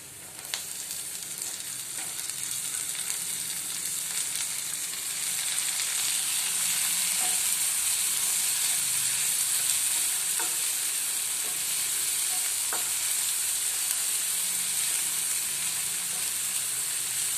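Tomatoes sautéing with onion, ginger and garlic for pav bhaji: a continuous bright sizzle that grows slightly louder, with occasional soft stirring clicks, close and steady, no voices.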